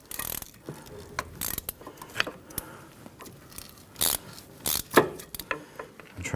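Metal clicks, scrapes and ratcheting knocks in uneven bursts come from turning and prying stuck Allen bolts on the parking brake of a 1999-2004 Jeep Grand Cherokee, close up and fairly loud with no talk.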